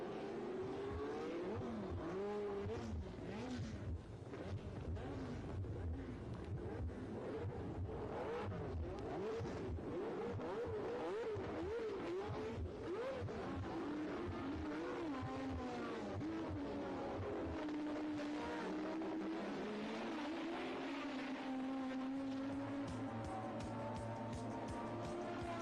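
Formula 1 race car engines scream and rise and fall in pitch as the cars accelerate and pass, heard at a distance with a constant layered roar.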